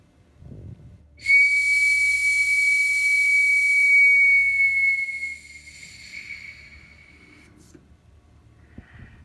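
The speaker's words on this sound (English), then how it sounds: "I sound the eagle whistle" An eagle bone whistle is blown in one long, shrill, breathy note lasting several seconds, then fades into quiet room sounds.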